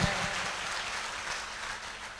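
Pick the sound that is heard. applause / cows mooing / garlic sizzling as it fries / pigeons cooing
applause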